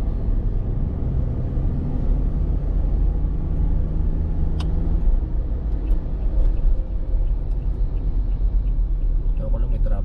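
Steady low road rumble of a car cruising along an elevated skyway toward Batangas, a continuous droning hum with tire noise and no distinct events, with people talking over it.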